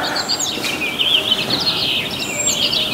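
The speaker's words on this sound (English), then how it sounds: "I hear birds." Birds chirp and twitter outdoors on a desert mountainside in bright, overlapping calls, with a wing flutter or two amid soft background air.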